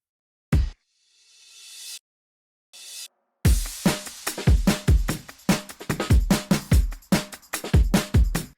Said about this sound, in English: just some sweeps, risers, and impacts